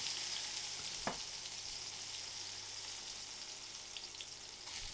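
Steady sizzling of ginger and minced garlic frying in hot oil in a wok, close and continuous, with a single sharp tap of a utensil partway through.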